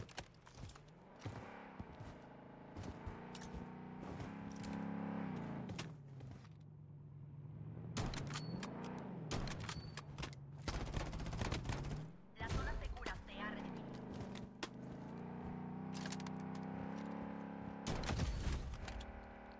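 Gunfire in the Blood Strike shooter game: sharp bursts of shots come in several clusters, loud and close, mixed with in-game mechanical noise while a player talks throughout.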